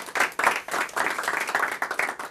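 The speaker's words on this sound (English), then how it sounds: "Can I get another round of applause for everybody that shared their stories here tonight?" A small evening gathering at a chiropractic talk claps for the people who shared their stories, an irregular, close round of hand claps that swells and dips over a couple of seconds.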